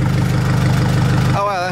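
A tractor engine pushes plywood against a building during an off-grid solar cabin build. It makes a loud, steady low rumble that drops away near the end as a voice briefly speaks.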